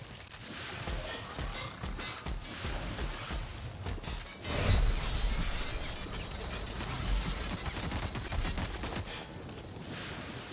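Gunfire from a weapon in the video game The Outer Worlds comes as rapid bursts of clattering shots and mechanical clicks, with a heavier boom near the middle, loud and continuous without talking.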